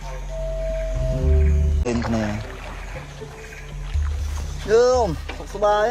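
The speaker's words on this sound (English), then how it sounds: "The two brothers cut the motor and row into the heart of the reserve" A small boat is rowed by hand on Tonle Sap lake with its motor cut, oars splashing and dripping close by under a continuous low hum, while a voice talks throughout.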